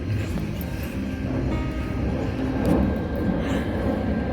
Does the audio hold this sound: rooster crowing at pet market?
no